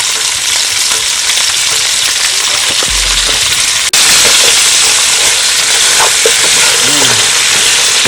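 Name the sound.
vegetables sweating in a pan on medium low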